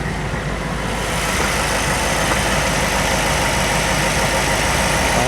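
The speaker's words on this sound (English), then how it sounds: "George, let me listen to it idle." A 1957 Ford Thunderbird engine idles close by, a loud, smooth, steady rumble that holds without change throughout.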